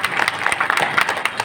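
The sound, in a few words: audience clapping hands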